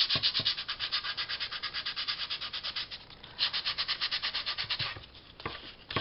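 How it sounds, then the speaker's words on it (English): Light hand sanding to smooth the joins on a piece being finished, a steady rapid back-and-forth rubbing rhythm, close and continuous with one short pause, no voices. "we're going to give them a little light sand again"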